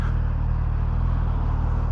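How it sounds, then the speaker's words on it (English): Steady road traffic heard from a Suzuki GSX-S1000 motorcycle ride, a continuous loud rumble of cars and engine drone with no clear breaks. "Lots of cars."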